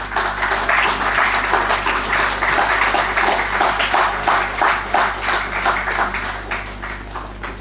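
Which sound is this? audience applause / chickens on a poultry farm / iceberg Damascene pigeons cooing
audience applause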